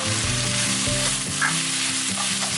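Ginger and garlic spluttering in hot oil while being stirred, a loud, dense sizzle that runs on without a break, with scraping stir strokes and faint pan knocks just beneath it, close up and with no one talking.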